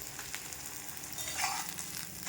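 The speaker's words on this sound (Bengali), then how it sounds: "আর একটা ডিম পোত করে নিচ্ছি" An egg fries in a pan with a faint, steady sizzle and a crackle or two, quiet and close, with no voices.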